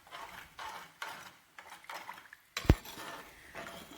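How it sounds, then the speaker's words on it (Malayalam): A spoon stirring masala paste with water in a pot for a Kerala sardine curry, giving soft rhythmic scraping strokes followed by a sharp metallic clink against the vessel, close and fairly quiet. "ഇനി നമുക്ക് ഒരു സ്പൂൺ കൊണ്ട് ആ അരപ്പും വെള്ളവും കൂടി നല്ലതുപോലെ ഇളക്കി"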